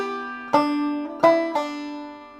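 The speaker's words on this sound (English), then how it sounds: "We're gonna go on and do a pull-off, and so it will sound like this." A plucked string rings, then a short sequence of picked and pulled-off notes on a stringed instrument, each attack bright and the tones sustaining cleanly in a quiet room.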